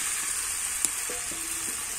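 Fried cauliflower tipped into a pan of cooked potatoes for aloo fulkopi sizzles steadily and close, with a few brief clinks and scrapes from the pan in the middle.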